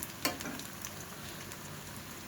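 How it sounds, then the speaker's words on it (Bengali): Potato and pointed gourd pakoras fry in oil with a soft, continuous sizzle and a brief clink near the start, quiet and close. "আমি কিন্তু অনেক সময় নিয়ে ভাজছি বেশি সুন্দর হয়ে যাচ্ছে"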